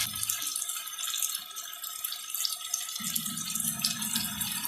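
Tap water runs steadily into a small jug during nihari cooking, a continuous close hiss and splash that deepens and grows fuller partway through as the jug fills.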